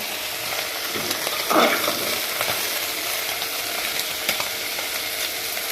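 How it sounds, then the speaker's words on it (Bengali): Fish frying in a pan gives a steady, close hiss and crackle of hot oil, continuous and fairly loud with a brief flare of sputtering, no voices. "এই যে মাছ ভাজা হচ্ছে কিন্তু আমার"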